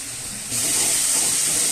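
Water hits hot oil in a pan of Bengali doi rui (fish in yogurt curry): a sudden loud, steady steam hiss and sizzle bursts in at once and holds through to the end, with no voices.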